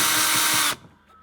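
A power drill driving out a T30 Torx screw on a BMW E61/E91 tailgate, a loud steady whir that cuts off abruptly, followed by faint quiet handling.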